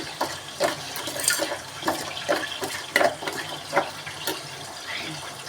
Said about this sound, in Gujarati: થોડું પાણી હજી દઈશું.